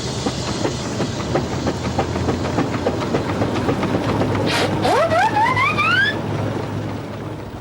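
Preserved steam engines and agricultural machines running together, a dense mechanical clatter with rhythmic chuffing, followed by a rising shrill steam whistle near the end.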